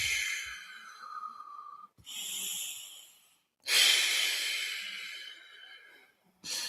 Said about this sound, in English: If you guys could all just take a few deep breaths.